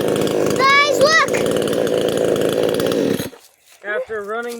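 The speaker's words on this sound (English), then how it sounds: "After running the chainsaw, you have to just adjust the chain a little bit." A Chinese-made gas chainsaw runs loud and steady for about three seconds, then cuts off abruptly. Children's voices talk over the engine and continue briefly after it stops.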